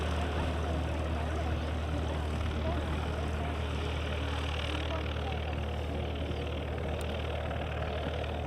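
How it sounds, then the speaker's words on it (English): A small flying club propeller plane taxis at an airport, its steady engine drone constant and fairly loud under a broad wash of background noise, with people talking nearby. "The small flying club one just taxiing along."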